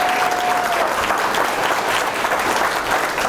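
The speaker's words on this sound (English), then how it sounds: "How many people would agree by show hand, by a round of applause, how many people would agree?" A crowd at a seminar on sales fear and cold calling gives a round of applause, dense and continuous clapping that stays loud and even from start to finish, with no talk over it.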